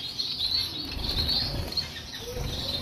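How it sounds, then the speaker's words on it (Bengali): Wings flap in quick, continuous bursts as female golden pheasants, both yellow golden and ordinary golden, move about inside an aviary. The rustling flutter sounds fairly close and steady, with no voices. "এখানে ব্লু গোল্ডেন না, ইয়েলো গোল্ডেনের ফিমেল আছে আর অর্ডিনারি গোল্ডেনেরও ফিমেল আছে এখানে"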